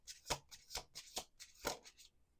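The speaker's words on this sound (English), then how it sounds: "Okay, last shuffle." A deck of playing cards is shuffled by hand in quick riffling bursts, five or six crisp rippling passes in a quiet room, close and fairly soft.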